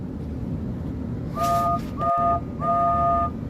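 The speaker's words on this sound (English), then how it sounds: "He certainly heard the whistle of a familiar engine." A steam engine whistle blows three short toots over a steady low rumble, with a sharp thump between the second and third.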